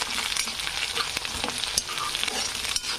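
Chopped curry leaves roast in a hot pan for kanda poha, giving a steady close sizzle and crackle with scattered stirring scrapes and pops throughout.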